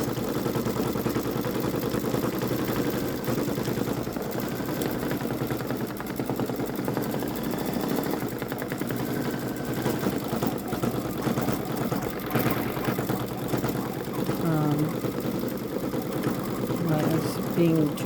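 A Baby Lock Solaris Vision embroidery machine stitches a peacock design, giving off a steady, continuous mechanical whir that stays even throughout with no breaks.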